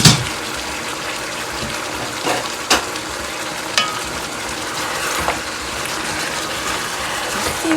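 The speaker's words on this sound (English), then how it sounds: "Okay guys, it's bubbling" A pot of Jamaican-style cow foot stew bubbles and simmers steadily, with soft popping and a few sharper clicks and pops breaking through the low liquid churn.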